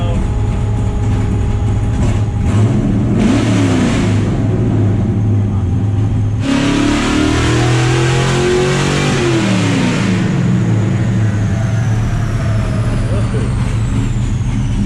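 LS7 V8 in a NASCAR truck on nitrous, revving hard and loud with a slightly uneven, misfiring edge, rising and falling pulls at close range, continuous throughout with no talk over it.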